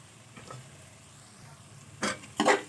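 A spoon stirs salt, turmeric and chili powder through a pan for drumstick dal, first as quiet scraping, then as two short, louder scrapes and clinks near the end.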